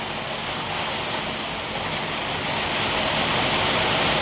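Heavy monsoon rain pours down in a steady, dense, unbroken roar that stays loud and even throughout, with no voices.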